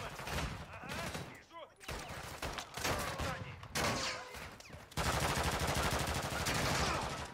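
Rapid, heavy machine-gun fire from an overheating gun in MWZ Zombies, loud sustained bursts broken by short pauses, then a long unbroken stream near the end.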